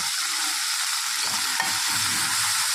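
Stuffed brinjals fry in hot oil with a loud, continuous close-up sizzle, a bubbling crackle that fills the whole stretch with nobody talking.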